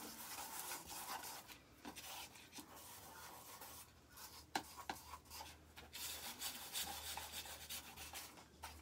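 Craft pieces being rubbed into heat-and-stick powder by hand, a continuous close scratchy rubbing with short gaps and uneven strokes, steady and fairly quiet with no talking.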